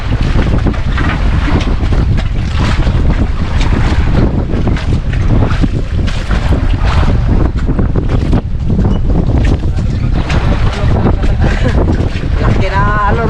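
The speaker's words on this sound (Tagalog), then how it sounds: "Lakas na yung hangin mga idol." Strong wind buffets the microphone continuously on a fishing boat at sea, loud and roaring, with big waves splashing and churning underneath and occasional muffled voices.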